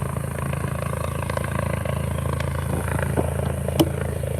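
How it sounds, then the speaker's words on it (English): A helicopter comes in to land, heard during an evening bike ride as a steady, low, droning rotor hum at moderate distance that continues throughout. "Helicopter's coming in for a landing."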